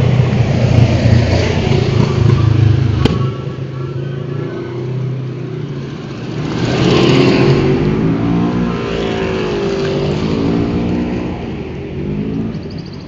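Cars pass along a street near a school, their engines rising and fading one after another over steady, fairly loud road noise.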